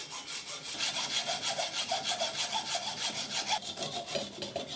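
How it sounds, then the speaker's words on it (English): A hacksaw cuts through the base of a small football trophy with steady back-and-forth strokes, a rhythmic rasping that repeats about four times a second, close and fairly loud. "So I cut off the base with a hacksaw."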